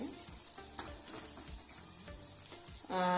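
Golibaje (Mangalore bonda) batter frying in hot oil, a steady close crackling sizzle with scattered bubbling pops throughout, growing louder and denser near the end.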